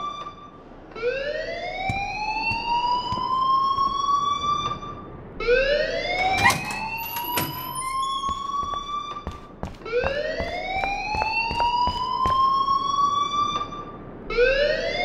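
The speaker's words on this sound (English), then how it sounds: "please turn off that alarm since that's your job" A school alarm in the video game Life Is Strange wails in repeated rising siren sweeps, each climbing in pitch then cutting off, cycling about every four to five seconds, loud and alone.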